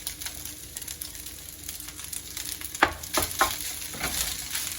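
An egg goes into food already frying in a pan and is stirred through, steady sizzling broken by a few sharp scraping strokes near the end, close and fairly loud, with no talking.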